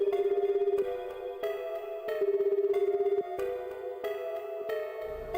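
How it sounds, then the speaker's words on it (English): A phone ringing in the video game 428 Shibuya Scramble, a repeating electronic ringtone in steady bursts, several rings in a row, clear and close with no talk. "The phone rang several times before a sleepy voice finally answered."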